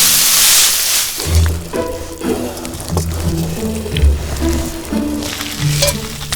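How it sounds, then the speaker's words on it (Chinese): Fish intestine omelette fries loudly in a pan, a close, crackling sizzle that pulses unevenly alongside the low clunks of stirring or shifting the pan. "鱼肠煎蛋"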